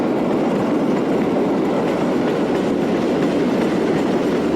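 A Portuguese railways 5600 class electric locomotive hauls its train past close by, a steady loud rumble with rhythmic clickety-clack of wheels over rail joints.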